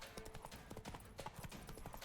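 Horse hooves clip-clop in a steady, fairly quick rhythm while riding in the video game The Witcher 3, set against the game's continuous ambient background.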